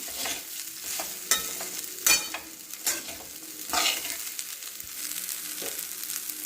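Turmeric and salt being stirred into poha in a pan, soft sizzling under repeated scraping strokes of a spoon, close and moderately loud, with no voices.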